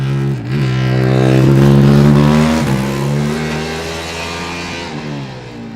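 Formula Student race car number 74 accelerates hard on an autocross run, its engine revving through rising and falling pitches in a loud, close pass with brief dips between gears.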